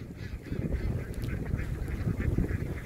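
A huge flock of ducks, around twelve thousand birds, runs across a field in Đồng Tháp, Vietnam, a dense, continuous chorus of quacking that sounds moderately distant, with no talk.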